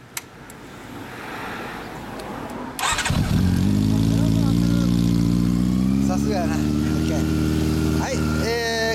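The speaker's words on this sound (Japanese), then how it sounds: "エンジンを聞かせてもらえる？" A Honda CB400 Super Bol d'Or SPEC III fitted with a Yoshimura exhaust starts after a short stretch of talk, then idles loud and close with a deep, even burble and a brief blip of revs near the end.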